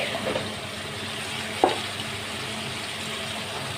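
Bottle gourd added to sautéed spices fries in a pan with a steady close sizzle and moist hiss, one brief clink in the middle, no voices.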